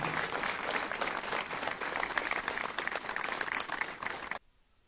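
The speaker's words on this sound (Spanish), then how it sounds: "todos vamos a regalar las palmas a Luis Gregorio Valderrama Casas" Warm applause from a gathered crowd at a municipal memorial tribute honoring a late former worker, steady dense clapping for about four seconds that then stops abruptly into near silence.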